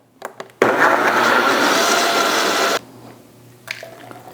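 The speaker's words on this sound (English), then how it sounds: "Add a little water and milk and blend." A blender whirs steadily for about two seconds as it blends a smoothie of blueberries, peanut butter powder, protein powder, water and milk, loud and continuous, with brief clicks before it starts and after it stops.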